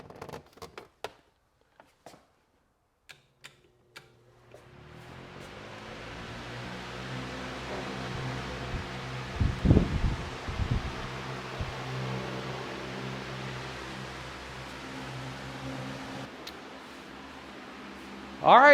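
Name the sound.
wall mounted oscillating fan blowing in a garage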